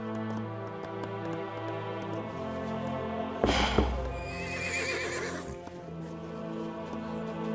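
Several horses neigh and whinny over a background of music and ambience in the video game Age of Empires 3, with a loud burst of whinnying in the middle and faint hoof clip-clops.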